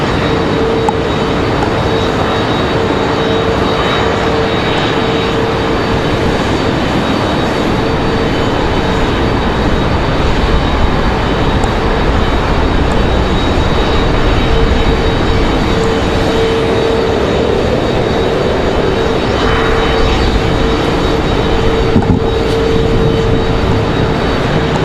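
A United Airbus A319 jet taxis out to the runway at Raleigh-Durham International Airport, a loud, continuous engine roar with a faint steady whine running throughout and no voices.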